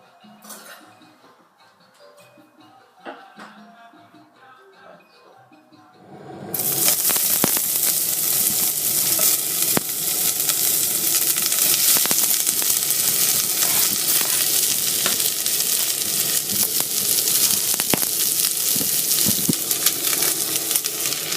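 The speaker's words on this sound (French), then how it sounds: "on va brûler les légumes dans une casserole" Vegetables are dropped into a hot pan and start frying, a loud steady sizzle that erupts suddenly after a quiet stretch of soft kitchen clinks and continues unbroken.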